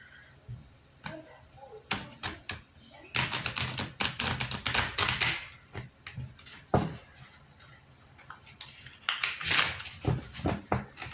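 Tarot cards being shuffled by hand, bursts of crisp riffling and flapping clicks in uneven runs with short pauses, close and fairly loud.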